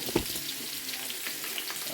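Lamb loin searing in a hot pan with sliced onion slivers, a steady broadband sizzle at moderate level with a brief louder pop near the start and no talking.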